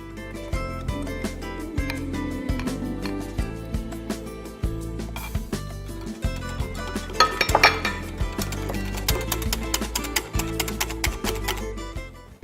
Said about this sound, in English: So I'm just going to mix this chocolate into the egg mixture.